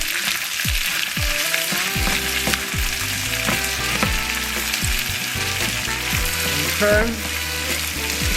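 Frozen black-eyed peas stirred into a sizzling pan, loud steady frying hiss with repeated spoon scrapes and clanks against the pan, close up, with one brief spoken word near the end.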